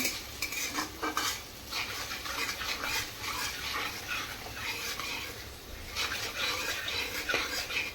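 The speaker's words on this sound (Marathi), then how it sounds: "लसूणचा व मिरचीचा कच्चा पाना निघून गेला पाहिजे व्यवस्थित परतून घेऊया" Garlic and chilies for cabbage sabzi are stirred and sautéed in a pan, a steady sizzle under repeated scraping and clinking of a utensil against metal, close and fairly constant.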